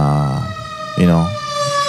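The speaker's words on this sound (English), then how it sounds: "Fucking sirens." A wailing siren with strong harmonic tones sweeps up and down, fairly loud and close, heard alone without talk.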